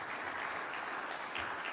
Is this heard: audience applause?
yes